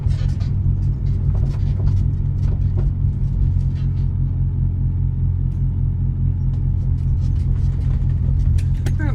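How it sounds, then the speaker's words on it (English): Piston engine of a BK160 Gabriel light aircraft taxiing onto a concrete parking area, a steady low droning rumble, close and constant, with faint clicks over it. "Good manoeuvrability on the ground on this aircraft."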